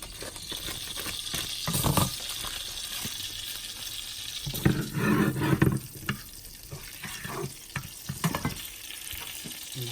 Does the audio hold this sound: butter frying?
yes